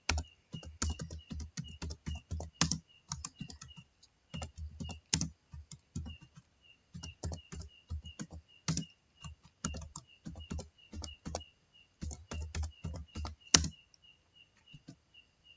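A file name being typed on a computer keyboard in bursts of quick, close key clicks with short pauses between words, moderately loud and with no voices.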